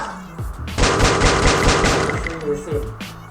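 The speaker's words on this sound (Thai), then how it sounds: "เวลาเรายืนยิงมันจะออกเม็ดเดียว แต่ถ้าเรานั่ง กระสุนออกสองเม็ด" Rapid gunfire from the Free Fire video game: a sharp burst of repeated shots in quick rhythm, loud and close, with talk before and after.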